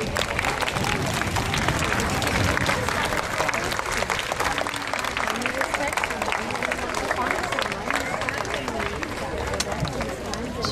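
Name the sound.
standing ovation applause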